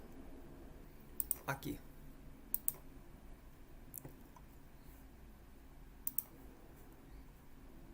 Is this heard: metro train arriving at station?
no